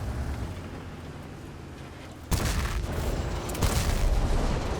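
Tank gun shot and its explosion in World of Tanks: a sudden heavy boom cuts through quiet rumbling ambience, followed by sustained roaring noise and a second, weaker impact near the end.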